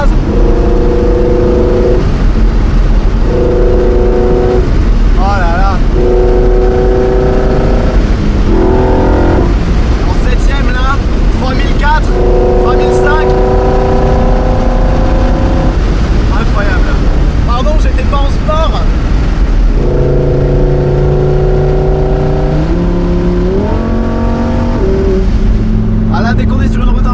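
A Lamborghini Huracan Performante S with automatic gearbox and exhaust valve closed accelerates hard in seventh gear under a bridge, a loud, sustained engine drone rising and shifting in pitch while someone talks over it.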